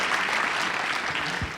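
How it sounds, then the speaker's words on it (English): Conference hall audience at an aviation security closing plenary applauds the panelists, a loud, dense and steady burst of clapping filling the room without speech. "a round of applause for the panelists"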